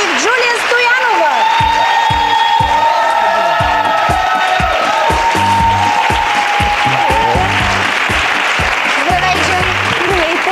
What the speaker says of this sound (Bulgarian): Дами и господа, аплодисменти за мис Пловдив Джулия Стоянова!